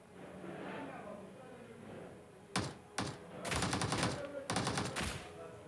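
Gunshots in PUBG Mobile, first a single sharp shot, then another, then two longer rapid automatic bursts, loud against quieter game ambience and speech in the first half.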